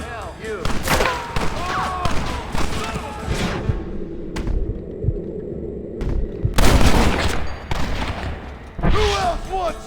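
Gunfire during a gate assault in the video game Red Dead Redemption, sharp rifle and pistol shots in rapid clusters with a lull midway, then renewed shooting as voices shout in the fight.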